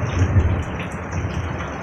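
Dense, steady rain patters hard on surfaces, a continuous close hiss with no voices.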